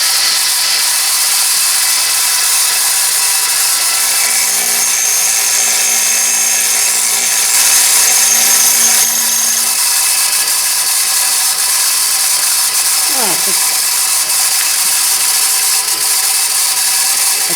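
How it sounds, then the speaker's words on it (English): Bench grinder grinding down a stock engraving stamp, a steady loud whirring hiss held throughout with a brief rise in the middle and no talking. "let's head over here to the grinder and get a little bit off of there"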